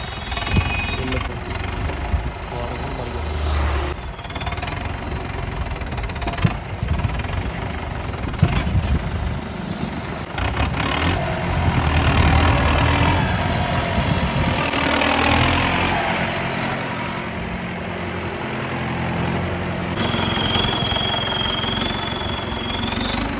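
A vehicle engine starts and settles into a rough, knocking idle, running steadily and fairly loud near the listener, with faint background noise and a few higher whines over it.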